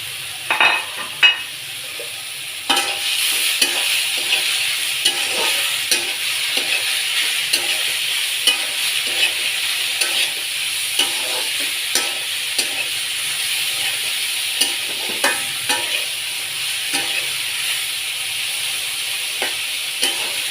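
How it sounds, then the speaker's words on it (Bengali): Dried fish (shutki) frying with spices in hot oil, a steady bright sizzle with frequent soft stirring scrapes and clicks throughout, close by and with no talking. "শুটকিটা ভাজা হচ্ছে।"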